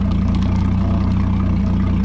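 Offshore boat engine idling steadily during a freshwater flush, a constant low droning rumble with an even pulsing beat throughout.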